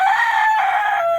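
A Silkie rooster crows loudly and close by, one long shrill call held for over a second with no other sounds around it.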